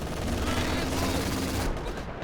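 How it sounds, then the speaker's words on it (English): An anti-tank air strafe in the Company of Heroes 2 video game, a rapid burst of heavy automatic gunfire rattling continuously over a low rumble, then cutting off abruptly near the end. "This anti-tank strafe is quite slow these days"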